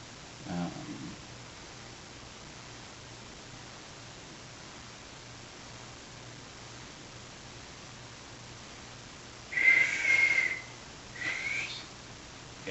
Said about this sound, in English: I can barely hold the whistle anyway.